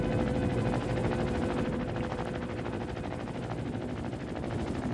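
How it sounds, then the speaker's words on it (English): A built helicopter in Trailmakers drones with a steady, dense rotor and engine hum, an even whirring roar that holds constant throughout. "Now, could this helicopter go a little bit faster?"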